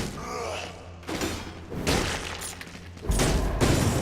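Explosion in the action game Dead Cells, heard as a few heavy thumping booms with bursts of broadband noise, loudest near the end, over constant game background.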